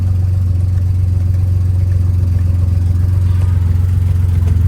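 A 2008 BMW 335i engine running steadily with a loud, close, constant hum throughout while paddle-shift upshifts are made, with no clear rev flare and no talking.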